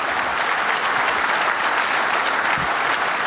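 A studio audience on a sports talk show gives loud, dense applause that holds steady throughout, with many hands clapping at once close by.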